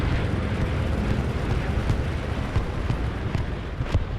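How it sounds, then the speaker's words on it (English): Rumbling explosions from an Axis bombing run over a capture point in a competitive multiplayer war game, a dense continuous low roar of blasts with a few sharper booms rising out of it, loud and close. "This does look like that was a Axis bombing run to try to clear out the point"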